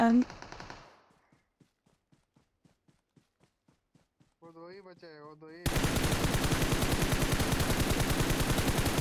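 Automatic gunfire in the battle royale game BGMI erupts as a loud, sustained burst of rapid shots after a short voice, quiet footstep-like ticks and a brief rising tone.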